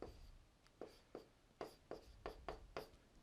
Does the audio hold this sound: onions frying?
no